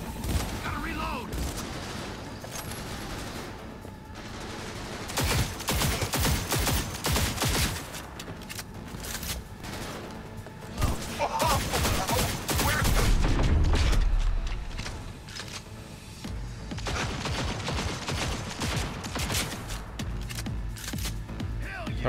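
Gunfire in the video game Cyberpunk 2077, dense bursts of rapid shots and mechanical clatter with a heavy boom midway, loud and close, mixed with in-game voices and a player talking.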